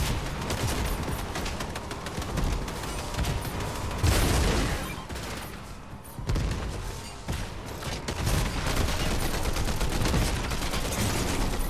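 Rapid bursts of gunfire from a Fortnite match, dense and loud throughout, with a brief lull in the middle before the shooting resumes.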